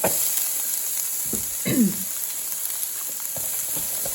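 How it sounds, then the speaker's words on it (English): An onion starts frying in a skillet sprayed with oil, giving a steady broad sizzle with a few soft clinks and stirs, close and fairly loud throughout, with no talking. "let's get our skillet sprayed a little bit. And we're going to get in that onion first and get that started."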